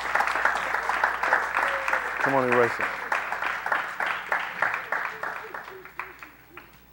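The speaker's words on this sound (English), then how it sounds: "give me a hand clap" A church livestream audience claps rhythmically together, steady hand claps continuing under a preacher talking over them and fading to scattered claps toward the end.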